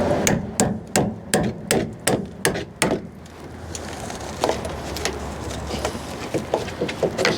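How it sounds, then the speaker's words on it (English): A chisel is hammered against glue on a pickup running board bracket of a GMC 3500 dually, a quick run of sharp, evenly spaced metallic strikes at first, then scattered lighter taps and scraping. "Now we're just hung up on the actual glue on the bracket below, which I'll just chisel out of here."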